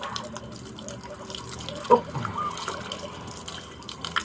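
Water runs and splashes steadily from a tap as a young male dog is rinsed during a bath, with a faint voice under the flow and one brief splash near the middle.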